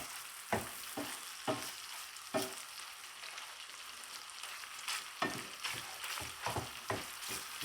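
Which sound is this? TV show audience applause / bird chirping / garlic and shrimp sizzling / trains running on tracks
garlic and shrimp sizzling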